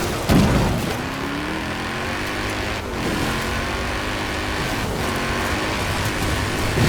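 Mini X-Raid Countryman Dakar rally car in Forza Horizon 4, its heavy engine droning loudly and steadily with a low rumble and a brief shift in pitch, no speech heard.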